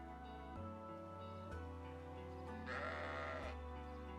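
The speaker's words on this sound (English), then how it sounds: "We also got the sheep with pants." Sheep bleat in Fire Emblem Engage, a few drawn-out wavering calls over background game music.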